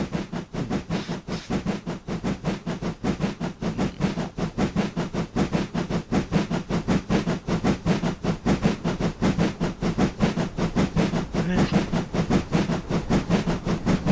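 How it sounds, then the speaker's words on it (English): Dean Goods model steam locomotive chuffing steadily, a rapid, regular rhythm of close, loud exhaust beats over a constant background hiss, with no voices. "I am really impressed with the chuffing sound"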